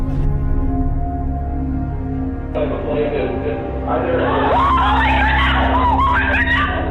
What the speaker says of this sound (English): I'm sorry I screamed.